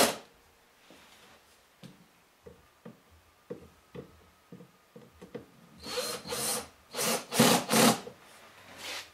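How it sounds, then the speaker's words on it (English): Power drill driving screws into the back panel of a vacuum tube amplifier, starting with quiet scattered clicks and taps, then several loud whirring bursts of the drill spinning near the end. "Take your drill or screwdriver, and you want to have it, making sure it's set to like 1 foot-pound."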